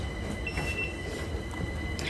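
A train waits at a busy London railway station, with a steady low rumble, faint metallic wheel squeals and hissing, heard nearby and continuously without speech.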